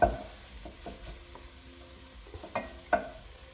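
Potatoes frying with chorizo and onion are stirred in a pan, a soft steady sizzle with a few scraping spoon strokes and light knocks against the pan, fairly quiet and close.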